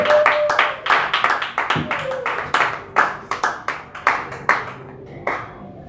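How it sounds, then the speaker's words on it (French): A church congregation at a French-language worship service claps in a quick, steady rhythm throughout, loud and close, with voices shouting and cheering among the claps. "applaudissons, acclamons le Seigneur"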